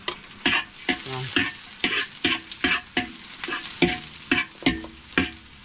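Chopped garlic sizzling in hot oil in a pan, with a spatula stirring and scraping in a steady rhythm of repeated strokes, close and clear; one short spoken word.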